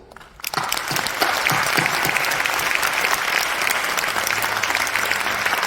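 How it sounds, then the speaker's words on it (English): A warm round of applause breaks out at a university graduation and entrance ceremony, starting abruptly after a moment of quiet and continuing as steady, loud clapping from a large crowd. "let us give them a warm round of applause"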